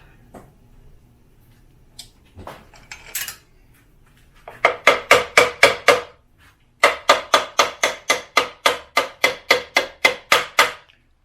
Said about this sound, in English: Brass hammer, so in case you were wondering.